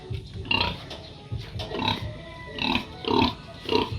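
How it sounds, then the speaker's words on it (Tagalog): A large pig grunts and oinks in repeated short bursts at close range, with some faint background noise between the calls. "Laki ng baboy."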